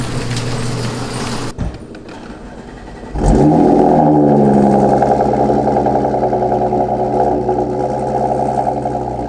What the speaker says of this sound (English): So we'll drive around with those on for a little bit right now, kind of see how it feels.